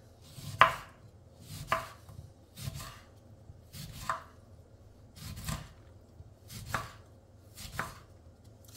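An organic lemon sliced with a knife on a cutting board, giving eight evenly spaced, crisp chops that stand alone against a quiet background.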